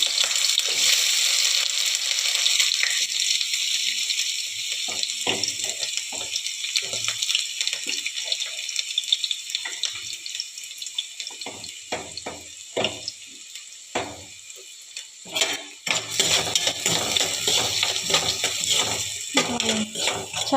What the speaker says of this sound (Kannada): ಇದೀಗ ಎಣ್ಣೆ ಬಿಸಿಯಾಗಿದೆ. ಇದಕ್ಕೀಗ ಕಟ್ ಮಾಡಿ ಇಟ್ಕೊಂಡಿರೋ ಈರುಳ್ಳಿನ ಸೇರಿಸ್ತಾ ಇದ್ದೀನಿ.